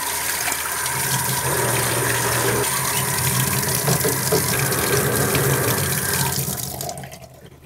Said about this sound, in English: rinse this off a little bit